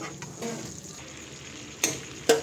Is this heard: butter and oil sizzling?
yes